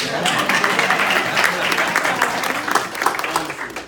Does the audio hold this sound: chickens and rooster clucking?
no